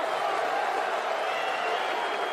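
A Parisian crowd at a boxing fight between Tony Yoka and Martin Bakole gives Bakole a steady, dense roar of applause and cheering that holds evenly throughout.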